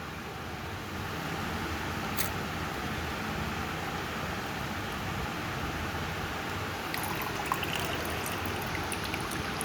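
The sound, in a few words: water trickling slowly out into a fish acclimation jug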